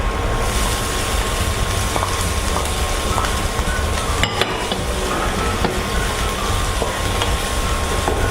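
Ham stir-fried with onion in a pan, a steady loud sizzle with scraping and stirring clatter from the utensil, continuous with no talk.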